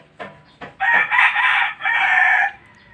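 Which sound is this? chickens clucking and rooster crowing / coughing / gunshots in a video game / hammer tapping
chickens clucking and rooster crowing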